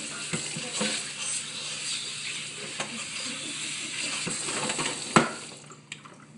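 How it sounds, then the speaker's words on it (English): A sink sprayer hisses water over celery stalks in a kitchen sink: a steady, close rush of spray with small splashes and knocks, one sharper clunk near the end. "we're going to come over here to our nice clean sink and wash it"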